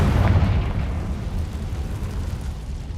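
A Confringo blasting spell in Hogwarts Legacy erupts in a loud, booming explosion, a heavy low rumble that swells at once and then slowly fades over a few seconds, with no talk.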